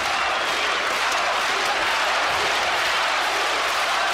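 A boxing arena crowd roars and applauds for Arthur Abraham in his bout against Jermain Taylor, a loud sustained wash of cheering and clapping filling the whole moment.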